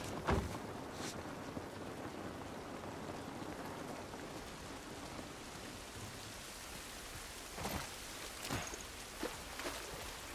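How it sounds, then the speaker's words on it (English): Steady rain falls in the video game The Last of Us Part 1, a broad hiss that continues throughout with a few sharper splashes or thuds near the start and toward the end. "This rain ain't gonna do us any good."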